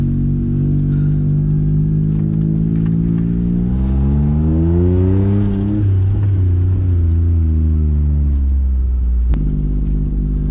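A car engine with a brand new clutch pulling hard under load, a loud, close, continuous drone that climbs in pitch through a gear, drops at a shift and builds again.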